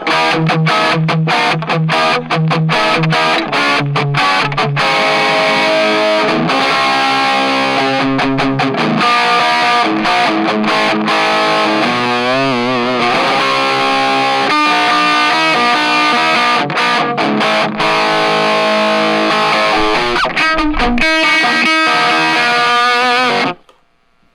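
Distorted electric guitar tone shaped by a complex EQ with many variable-Q boosts and cuts; dense sustained chords and riffs play loudly and continuously for the full length, then stop abruptly.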